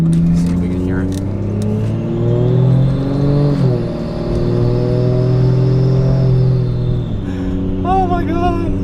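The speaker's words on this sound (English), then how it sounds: "Maybe just enough to spool the turbo a little bit." A Toyota Soarer with a 1JZ engine and Greddy intercooler kit revs up and holds, the turbo beginning to spool, then drops back; a loud, close engine note with a short burst of voice near the end.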